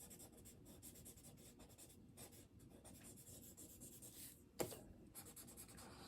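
A Ticonderoga No. 2 graphite pencil shades paper in a barn drawing, making quiet, close, rhythmic scratching strokes that repeat steadily, with one louder scrape near the end.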